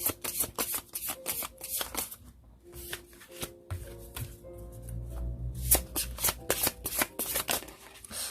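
Tarot cards being shuffled by hand during a Korean love and reunion reading: a fast run of crisp riffling flicks and soft slaps, close and fairly quiet, with a brief pause midway and no talk over it.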